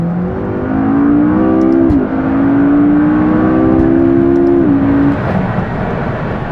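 A McLaren MP4-12C accelerating hard through corners, its engine droning loud and close as the pitch climbs steadily, dips briefly on a shift, then rises again before easing off.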